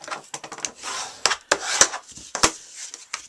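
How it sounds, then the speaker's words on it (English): A cardstock card base is burnished by hand with a tool, giving short scraping rubs in an irregular rhythm, close and fairly quiet, with no talking. "let's give our base a nice burnish here"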